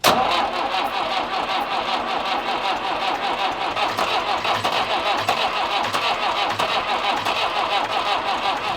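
An old McCormick F240 tractor's diesel engine cranks over repeatedly in a steady rhythmic churn, turning without catching, loud and close, with no voices.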